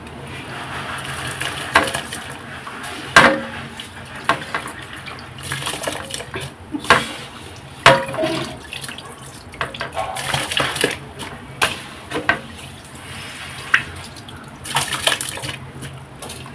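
Dishes are washed under a running kitchen tap, with steady splashing water broken by repeated clinks and clatters of pots, plates and cutlery close by.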